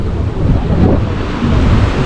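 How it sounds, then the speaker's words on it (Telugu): Heavy, rumbling roar of large sea waves at Kanyakumari, dense low noise with wind buffeting, no voices. "చాలా పెద్ద పెద్ద అలలు కూడా వస్తున్నాయి"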